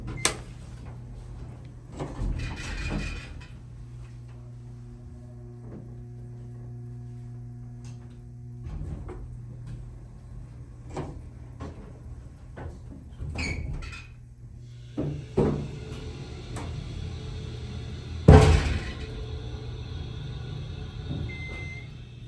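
An older Otis Series 1 hydraulic elevator with a faulty door operator in a Wells Fargo building, making clunks, rattles and a steady mechanical hum, with a sharp bang and grinding sliding noise late on, no talk.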